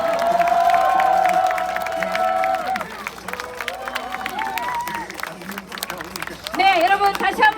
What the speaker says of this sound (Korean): 여러분 박수 주십시오.